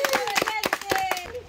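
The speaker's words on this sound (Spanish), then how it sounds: "¡Un aplauso para Naomi!" Clapping at a graduation party: a short burst of close, uneven hand claps under excited voices, with someone speaking over them.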